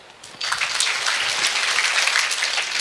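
Audience applause at a Salem SMS summer classes closing ceremony, honouring a yoga instructor. A brief quiet moment gives way to steady, dense clapping from a crowd that continues evenly to the end.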